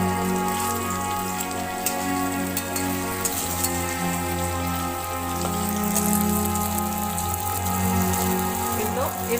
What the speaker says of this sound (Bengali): এগুলো এভাবে লাল করে ভেজে উঠিয়ে নিব।